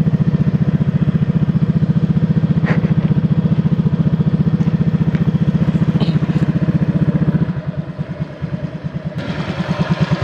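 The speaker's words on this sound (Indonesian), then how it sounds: "Sekarang kita coba aja cek sound dulu, knalpotnya kayak gimana suaranya." Honda Vario 150 scooter with an aftermarket exhaust idling up close: a steady, bassy, rapid putter that drops and loosens near the end with a faint clatter, loud and continuous without speech.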